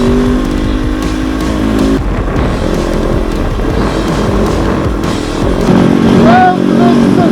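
Kove 450 Rally motorcycle being ridden off-road in Africa, a loud close engine drone with shifting revs and gear changes, continuous throughout with rough wind and terrain noise.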